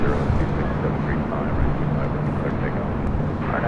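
A jet airliner takes off at LAX, its engines giving a loud, continuous roar from a distance while air traffic control radio talk plays over it.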